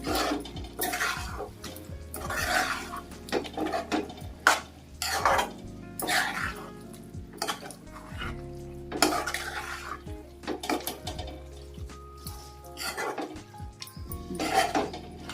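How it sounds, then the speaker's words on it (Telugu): A spoon stirs chili powder into a prawn masala curry in a pan, giving repeated scraping and clinking strokes against the metal over a soft simmer, close and fairly loud, with no talking. "ఈ కారం వేసి కలుపుదాం"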